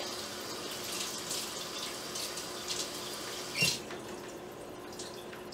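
A tomato is rinsed under a running kitchen tap, a soft steady stream of water with a few splashes and one louder clunk near the end.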